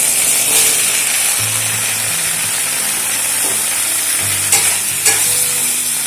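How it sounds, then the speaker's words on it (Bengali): Chopped bottle gourd gets stirred into frying spices in a hot pan, giving a loud steady sizzle with repeated scraping and clicking utensil strokes close by. "এবারে কেটে রাখা লাউগুলো এর মধ্যে দিয়ে দেবো।"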